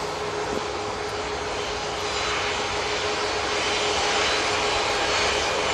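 An airliner takes off at Manchester Airport, its jet engines a loud, steady broadband roar that rises a little over several seconds and is heard from nearby, with no talk.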